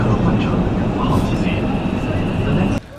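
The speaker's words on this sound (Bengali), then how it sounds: "মেট্রো রেল চলে আসছে" A metro train rumbles loudly and steadily nearby, a dense low roar with a faint high whine, cutting off abruptly near the end; voices can be heard beneath it.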